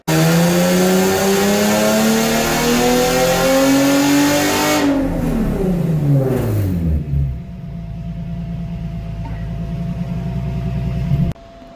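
An Infiniti G35 engine on a dyno pull revs hard and climbs steadily in pitch, then backs off sharply to a lower drone, loud and close throughout.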